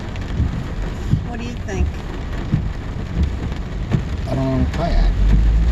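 Steady rain falls throughout, a dense wash of patter that swells a little louder near the end, with people talking casually over it.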